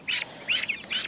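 Baby ducks give three short, bright quacking peeps in quick succession, close by and fairly loud.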